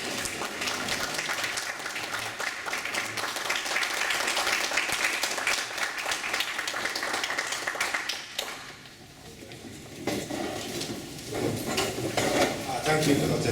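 A Broward College North Campus audience at a Black History Month event rises for Dr. Okedion with a sustained wave of dense applause that briefly thins before swelling again, with voices mixed in.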